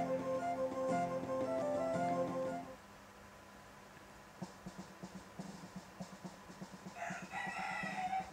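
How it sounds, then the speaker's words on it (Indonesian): Chicken clucks and a crowing rooster sound in the video game Alchemia Story, several short fowl calls over game music that gives way to rustling effects, with brighter clucks near the end. "Wah, bunyi mulu nih. Si ini gua ayam gua."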